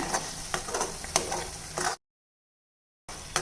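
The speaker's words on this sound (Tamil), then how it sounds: "இப்போ இதை நல்லா கலந்து விட்டுலாங்க அந்த வெங்காயம் தக்காளி கலவையும் நம்ம மல்லி அரைச்ச கலவையும் நல்லா சேர்ந்து வந்துடணுங்க" Onion, tomato and ground coriander gravy is stirred in a pan, giving a close, steady scraping and soft sizzle for about two seconds, then a short silence before the stirring resumes.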